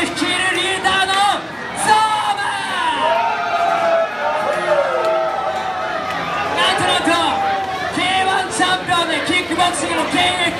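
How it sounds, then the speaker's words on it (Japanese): Crowd cheering and applauding at a Dragon Quest themed Halloween party in Shibuya, a dense, loud wash of whoops, shouts and clapping with music under it, sustained throughout. "ハーゴンに大きな拍手を"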